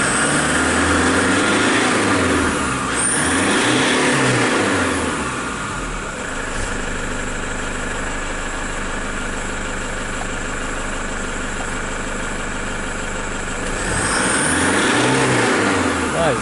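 Diesel engine of a 2006 Toyota Hilux with power loss and a suspected bad injector, revving up in loud, rising surges at the start and end with a steadier idle-like drone between, close to the microphone.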